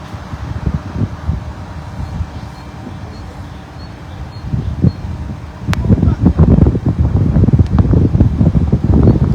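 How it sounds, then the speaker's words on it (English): Gusty wind buffets the microphone outdoors as a narrowboat is lifted at a canal, with rumbling gusts that grow stronger and more constant partway through. "The wind's picked up a little bit."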